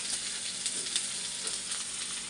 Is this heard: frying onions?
yes